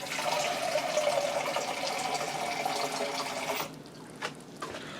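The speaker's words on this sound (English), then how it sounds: "I'm going to add about a half a can of water in one of those cans." Steady running water pours into a sauce pot for several seconds, a broad splashing rush that cuts off abruptly, followed by a couple of faint drips and clinks.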